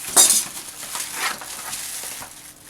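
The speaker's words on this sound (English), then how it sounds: "While the oil is still nice and hot, I am going to take my onions and peppers, and then about a teaspoon of kosher salt." Onions and peppers with a teaspoon of kosher salt going into very hot oil for sausage and peppers, a soft sizzle with a sharp clink of utensils at the start, no voices.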